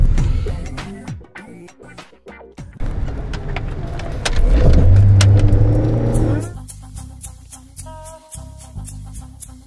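A car is driven: a loud engine surge and rev rise in the middle, with rumbling and mechanical clicks around it, while people speak over the noise.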